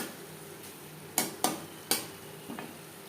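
Spices being stirred in a frying pan for a spicy Bengali potato curry, heard as a few sharp scraping clinks of a spoon against the pan over a faint sizzle, with quiet gaps between strokes.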